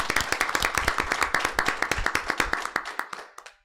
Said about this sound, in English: Let's give you guys another round of applause, please.